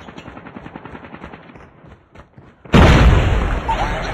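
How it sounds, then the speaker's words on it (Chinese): A grenade blast in a Crash Remastered video game map, preceded by quieter rapid clicks and rustling, then a sudden loud booming explosion that rolls on with a long roaring tail. "手雷。"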